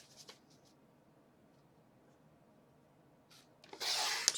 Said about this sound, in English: So we're going to start out by cutting it in 4-inch strips.